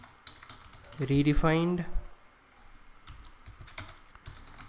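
Code typed on a computer keyboard, quick close key clicks in an uneven rhythm around and after a short spoken phrase.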